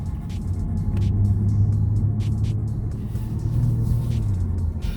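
A 2022 Genesis G70 Launch Edition cruises on a highway, giving a steady, close low engine and road rumble with a faint rising drone and no speech.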